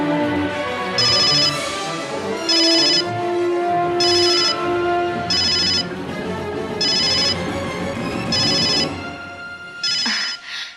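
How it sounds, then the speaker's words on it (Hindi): A phone ringtone plays in repeated bursts, about six evenly spaced electronic rings over steady background music, loud and close, cut off near the end. "लगता है किंग का फोन है।"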